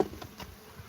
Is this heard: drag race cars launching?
no